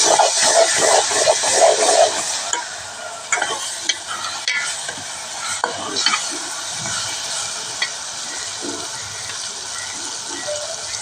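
Onion pieces fry in a pan with a loud, close hissing sizzle that eases over time, broken by sharp spatula scrapes and clinks as they are stirred.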